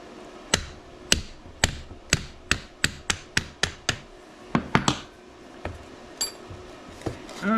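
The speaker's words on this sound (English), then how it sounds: "And an extremely poisonous lead hammer." A lead hammer taps metal on an antique automotive generator repeatedly in a fairly even rhythm, a dozen or so sharp, close strikes that slow and thin out toward the end.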